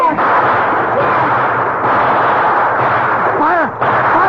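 Gunfire and artillery shooting in an old-time radio drama, a continuous dense barrage throughout, with a voice crying out over it near the end.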